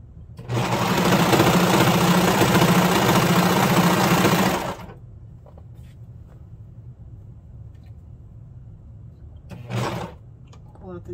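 A sewing machine stitches a pajama shirt in one steady, loud whirring run of about four seconds, then stops, followed by a brief second burst of stitching later.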